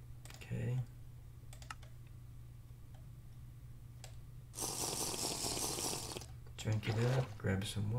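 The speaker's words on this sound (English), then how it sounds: "I'm gonna fill it with water here." In a Minecraft game, a bottle fills with water in a burst of splashy gurgling lasting about a second and a half, amid soft keyboard typing and clicks, with a nearby voice speaking quietly at times.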